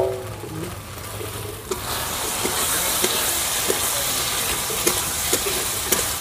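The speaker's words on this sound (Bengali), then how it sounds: "মশলার সঙ্গে আলুটাও একবারে ভাজা হয়ে যাবে" Diced potatoes fry in a cooked spice masala, giving a loud, continuous close sizzle with periodic sharp clicks of a spoon against the pan.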